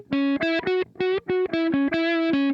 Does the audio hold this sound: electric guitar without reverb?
yes